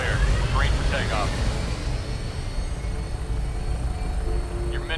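Aircraft engine roaring at takeoff in Fallout 4, a steady loud rumble filling the whole stretch with brief overlapping radio-style voice chatter.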